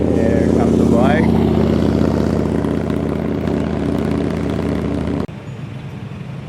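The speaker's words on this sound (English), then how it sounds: "There comes the bike." A motorcycle passes on a road through Pennsylvania farmland, its loud, steady engine drone holding close for about five seconds before cutting off abruptly, leaving a quieter background.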